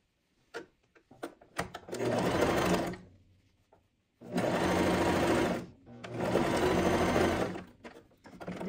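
Sewing machine stitching lining fabric runs in three sustained bursts, close and loud, with a steady mechanical whir, separated by pauses and preceded by a few sharp clicks and knocks.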